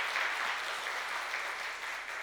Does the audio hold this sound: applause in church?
yes